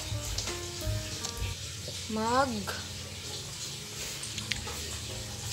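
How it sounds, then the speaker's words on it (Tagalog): Cooked rice sautés in a hot pan at home, a steady crackling sizzle broken by stirring scrapes, with a brief whining tone and a voice faintly in the background. "Gigisa lang ako ng kanin."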